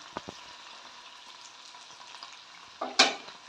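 Chicken goes into a hot frying pan for a dish with chayote tops, over a low, steady sizzle with a couple of soft clinks, then a sudden loud hissing burst near the end.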